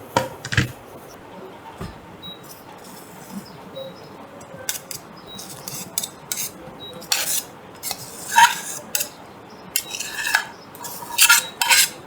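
A spoon scrapes and clinks against a dish as food is mixed, irregular metallic taps and stirring strokes close by, with no talk.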